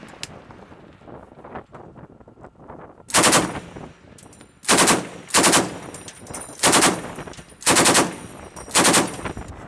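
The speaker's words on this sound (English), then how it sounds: "Thanks to an inflatable target provided by the Danes, we got a bunch of practice shooting." Naval gunfire from a US Navy destroyer at sea during shooting practice against an inflatable target: after a few seconds of wind and sea noise, six loud, evenly spaced bursts of firing ring out over open water.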